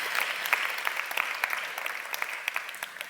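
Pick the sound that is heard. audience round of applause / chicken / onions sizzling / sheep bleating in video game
audience round of applause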